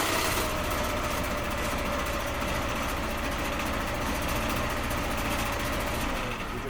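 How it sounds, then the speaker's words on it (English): A gas engine on a 2008 Yamaha Drive golf cart trying to start, a loud, steady low rumbling drone with rapid mechanical chatter that holds for several seconds before easing off. "It does run. Obviously, it's trying to start."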